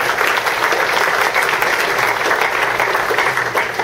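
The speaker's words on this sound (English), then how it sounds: "That deserves a round of applause," Audience applause fills the room: dense, even clapping from a crowd, steady and fairly loud with no break for its whole length.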